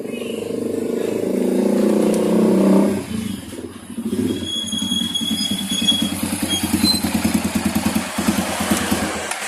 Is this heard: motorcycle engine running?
yes